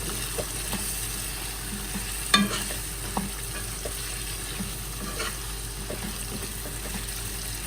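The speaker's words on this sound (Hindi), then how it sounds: "बस अब इसकी 1-2 मिनट भुनाई कर लेते हैं।" Potatoes, fenugreek and spices stir-fry in a pan with a low steady sizzle, broken by a few sharp scrapes and knocks of the spoon against the pan.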